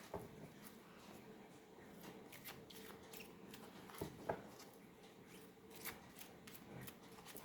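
Oracle cards shuffled by hand in a quiet room, giving a steady, soft riffling and sliding of card stock that continues throughout with a few slightly louder flicks.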